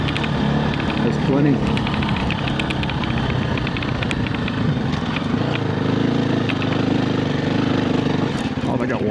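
A 2024 KTM 350 EXC-F dirt bike engine lugs in third gear as the throttle is cracked without clutch, a steady close rumble on a desert ride, with the rider talking over it.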